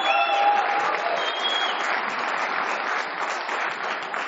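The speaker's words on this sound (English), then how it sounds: "We do appreciate the applause" A debate audience at a U.S. Senate special election primary at UMass Lowell breaks into loud, sustained applause from a full crowd of many hands, which tapers slightly over a few seconds.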